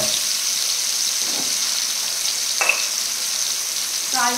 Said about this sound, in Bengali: তো আলুগুলো আমার লাল করে ভাজা হোক